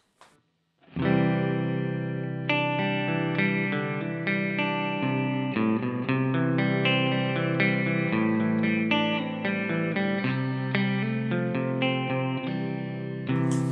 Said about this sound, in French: Et là, je vais brancher la réverb.